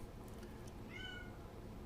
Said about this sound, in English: before the cat started meowing